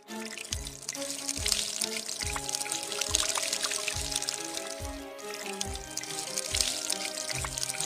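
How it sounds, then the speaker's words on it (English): Water pours steadily from a hole in a plastic bottle, a continuous trickling splash with rhythmic gurgling pulses recurring about every half second, close and fairly clear. "Now you can see water coming out from the hole."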